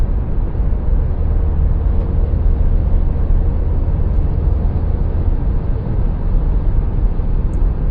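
Cabin noise inside a 2025 Dacia Jogger with a 1.0 TCe ECO-G 100 hp engine and six-speed gearbox cruising at 140 km/h, a steady, even roar of road and wind noise with no talking.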